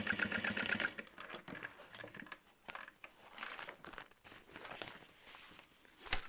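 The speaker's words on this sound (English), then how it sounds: "I'm just top stitching through the exterior" A sewing machine topstitches through a backpack's outer fabric in short, rapid bursts of mechanical stitching. Pauses, handling clatter and faint rustling come in between.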